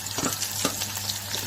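Onions and green chillies frying in oil for a chicken curry, giving a steady close sizzle with a few soft stirring scrapes and a low constant hum underneath, no voices.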